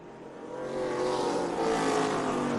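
ARCA Menards Series stock cars roar around the Springfield mile dirt track on the final lap of the 2023 Dutch Boy 100, a swelling engine drone that rises and holds loud as the field passes, heard at a distance.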